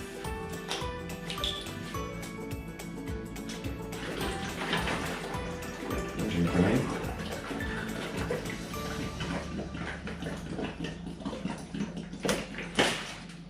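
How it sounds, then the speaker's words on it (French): Spring water poured from a bottle into a glass jar for making kefir, a close, irregular trickle and splash with small clinks and handling noises throughout. "Alors là je prends l'eau de source"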